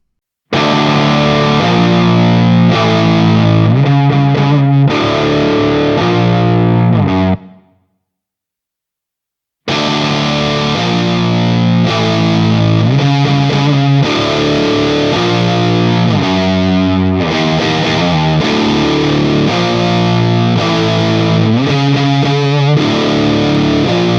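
An electric guitar played through a distorted amp simulator, loud and saturated, with chords and riffs that cut out abruptly for about two seconds and then resume, with no talking.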